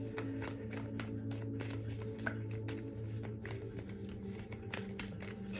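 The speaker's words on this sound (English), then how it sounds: "I'm going to pull from these. It's like they came up, yeah, okay, let's pull some cards." Oracle cards shuffled and pulled from a deck, a steady run of soft papery riffles and slaps repeating close by, with a low room hum underneath and no talking.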